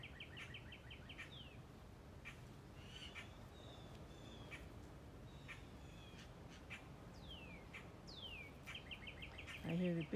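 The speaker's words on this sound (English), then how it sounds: "I hear the baby blue jays in the tree." Young blue jays call in a series of scratchy, repeated notes from a backyard tree, mixed with other bird calls against a quiet outdoor background.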